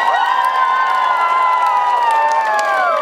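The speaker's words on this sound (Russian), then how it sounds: "Аплодисменты!" A crowd at an awards ceremony finale erupts in cheering and applause, bright sustained shouts and whoops held steadily for a few seconds, with no talking over it.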